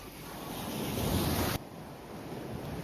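Stormy sea surf and gusting wind on Chornomorsk beach, a loud, steady broadband roar of breaking waves with wind buffeting the microphone, dropping abruptly to a quieter wash partway through.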